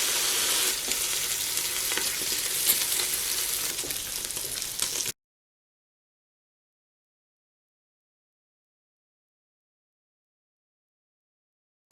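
Bacon rashers frying in their own fat without oil in a Ninja Foodi air fryer give a steady, close crackling sizzle for about five seconds, then the sound cuts to silence.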